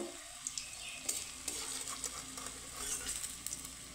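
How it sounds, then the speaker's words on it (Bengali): Paneer kofta balls fry in oil over low to medium heat until reddish, a faint, soft sizzle with occasional light clinks and stirring taps, no voices. "তো এখানে আমি লাল লাল করে ভেজে নেব।"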